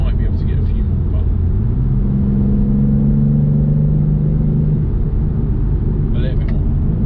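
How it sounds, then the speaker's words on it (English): A new BMW M2 in Sport Plus mode revs from inside the cabin, its engine rising to a sustained, loud drone and then dropping back, with a few faint exhaust pops, while a person talks over it. "A bit of pops and crackles."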